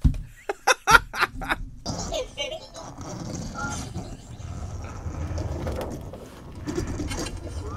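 A Sphero Star Wars BB-8 app-enabled toy droid rolls around, its small motor whirring and mechanical clicks heard near, after a few sharp taps at the start, with laughter and a voice over the rolling sound.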